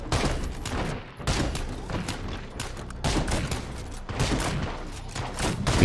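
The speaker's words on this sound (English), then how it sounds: "We do have this big 50 cal rifle. Yeah, I'd say that was a good use of it." Big .50 caliber rifle and other gunfire in State of Decay 2, a dense run of loud overlapping shots and bursts that continues almost without pause, with brief lulls between volleys.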